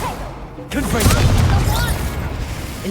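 Confringo explosion spell cast in the video game Hogwarts Legacy, a sudden loud booming burst followed by crackling, whooshing magical debris, with a voice shouting over it.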